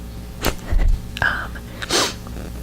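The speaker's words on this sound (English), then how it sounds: "I have I'm about to sneeze, so hold on" A single sharp sneeze bursts out close to the mic, with a quieter breath or sniff before it and some faint rustling after.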